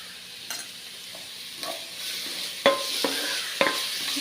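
Onions sauté in a pan for a rajma masala curry, a soft continuous sizzle broken by several sharp scrapes and clinks of a spoon stirring against the pan, with no talking.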